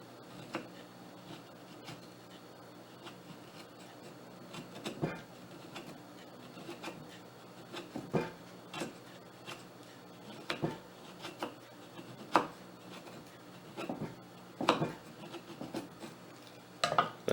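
A Benchmade Crooked River knife shaves feather sticks from a piece of hardwood, with scattered scraping strokes and sharp ticks that grow more frequent, close but fairly quiet, with no voices.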